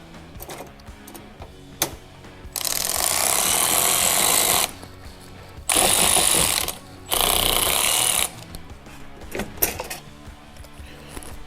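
Ratchet or power driver tightening T-bolts on a DRT front grill of a Polaris RZR Pro R, with loud sustained mechanical bursts in three runs separated by quieter clicks and handling noise.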